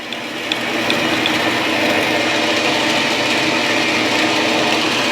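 A used Grizzly G9972Z 11 by 26 inch variable-speed hobby lathe runs steadily in threading mode with its feed engaged, giving a continuous mechanical whir and gear rattle at even loudness throughout, with no one talking.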